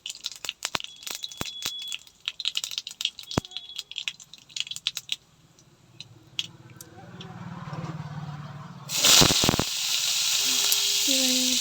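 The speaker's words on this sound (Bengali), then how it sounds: "এবারে দেয়া হচ্ছে একটু সর্ষে, গোটা সর্ষে কালো, দেওয়া হচ্ছে সর্ষে তেল" Whole black mustard seeds and mustard oil in a pan, with clattering and scraping at first, then a rising frying hiss and a burst of loud sizzle near the end, followed by a steady crackle.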